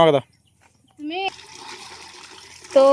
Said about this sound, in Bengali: এখানে দেখতে পাচ্ছ কাকে জল কলে কল টিপতে নিয়ে এসেছি জল ভরছে